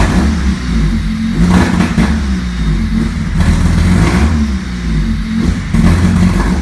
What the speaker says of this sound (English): the engine just wants to sputter, or it has a general loss of power, hesitation